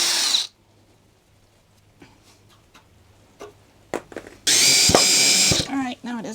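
A power drill backs large screws out of a wooden worktop and table legs, the motor whining loudly in long bursts near the end after a quieter stretch of clicks and handling, with brief speech.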